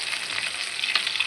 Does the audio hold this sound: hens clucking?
no